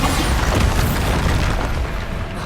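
A Bombarda explosion spell bursts in Hogwarts Legacy with a loud, dense booming rumble that fills the whole moment and slowly fades, with no talking over it.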